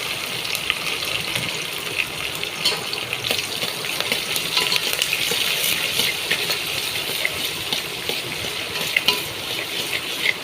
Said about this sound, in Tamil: அதுக்கப்புறம் வெங்காயம் பொடிசாக வெட்டினதும் வெள்ளைப்பூ இது கருவேப்பிலை போட்டுக்கிறோம்